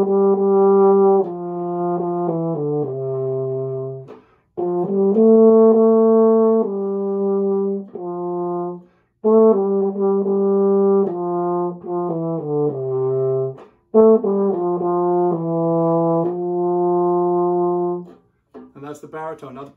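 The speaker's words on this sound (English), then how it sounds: "the first instrument I'm going to demonstrate is the baritone" A baritone horn, a brass instrument, plays a solo melody of sustained mid-low notes in short phrases separated by brief breaths, loud and close with no accompaniment.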